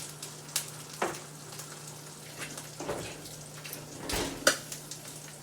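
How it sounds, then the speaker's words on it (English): Eggs frying in a pan give off a faint, steady sizzle, broken by a few sharp clinks of a utensil against the pan. "I'm going to flip my eggs."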